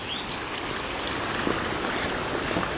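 Steady, broadband rush of creek water flowing close by at a crossing on the east slopes route of Snowmass Mountain, a continuous wash with no voices.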